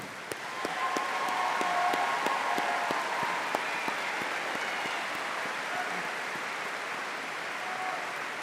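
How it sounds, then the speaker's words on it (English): Applause from a commencement ceremony audience honoring veterans and service members, a steady wash of many hands clapping that holds evenly for about eight seconds with scattered sharper claps on top. "Please join me in one final round of applause for those who have already served this great nation"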